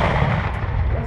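A loud, sustained booming blast as a tank main gun fires a blank round, with dense low rumble filling the whole moment, like a heavy gun discharge echoing.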